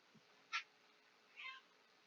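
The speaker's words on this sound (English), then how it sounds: "yeah, you better go meowing" A cat meows twice, short and faint. The first cry is sharp and the second is longer and softer, both in a quiet indoor room with no voices.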